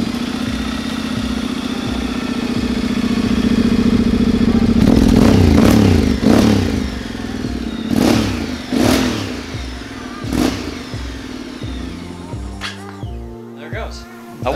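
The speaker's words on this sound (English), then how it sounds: "this is a 750. It's a motorcycle, it's not a scooter." A Honda X-ADV 750 motorcycle engine runs at a steady, buzzing idle close by, rising briefly in revs and then giving several quick throttle blips before settling into an uneven, sputtering idle.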